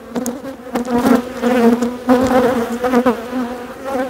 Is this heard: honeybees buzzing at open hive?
yes